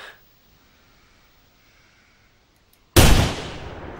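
A hunting rifle shot rings out in the video game theHunter while stalking a reindeer: one sharp, loud blast after near silence, followed by a decaying echoing tail.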